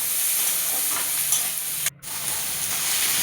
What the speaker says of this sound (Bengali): আবারও কিছুটা ভালো করে মিশিয়ে নিয়ে ভেজে নেব।